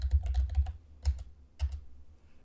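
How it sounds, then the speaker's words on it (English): A computer keyboard is used to type a word, giving a quick run of four soft keystrokes followed by two separated taps, close and clear with no talk. "I can just type it here"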